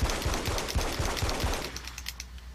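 Rapid automatic gunfire at maximum fire rate in Alan Wake's American Nightmare, a fast, evenly spaced burst of loud shots for about a second and a half, then a sparse clicking tail.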